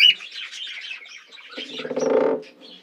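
A female cockatiel being lifted off her nest gives a run of short, close chirps and calls, ending in a louder buzzy squawk with a brief flutter.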